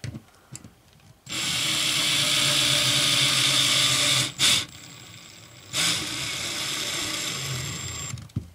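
A power drill fitted with a bit, standing in for a screwdriver, drives a screw during a Starlink installation: a loud steady whir for several seconds, a short pause and burst, then a second sustained run.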